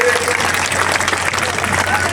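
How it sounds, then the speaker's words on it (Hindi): A crowd at an outdoor public gathering for a statue unveiling claps loudly and steadily in a dense, continuous wash of applause, with a low hum beneath it. "जोरदार ताली बजा करके इनका स्वागत करिए"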